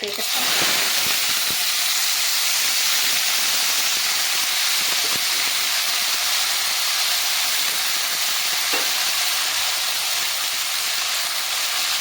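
Cumin seeds and curry leaves sizzle in hot oil in a pan, a loud, steady, close hiss that runs unbroken with faint crackles.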